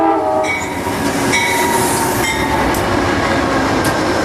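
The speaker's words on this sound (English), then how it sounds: "The train, it's a long train, it's taking off." A long train pulls away near Devil's Lake, its horn sounding in sustained tones over a steady, loud rumble of rolling cars and wheels that fills the whole stretch.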